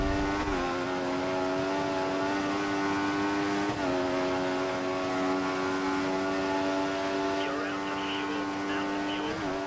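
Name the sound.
F1 car engine with wheelspin, F1 2014 video game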